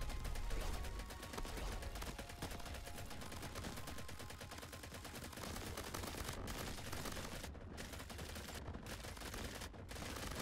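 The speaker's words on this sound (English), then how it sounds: "We've turned this into a minigun." Rapid minigun fire in the video game Crab Champions, a dense unbroken stream of shots at steady loud volume, with brief gaps near the end.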